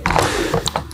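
A cordless battery grinder is pushed into a Xenon Mollar toolbox, producing a quick cluster of close plastic clicks and clunks lasting about a second.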